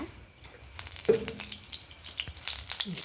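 Oil in a pan heating for tempering a ridge gourd sambar, a thin hissing sizzle with scattered clicks and a brief clatter, moderately faint and without speech.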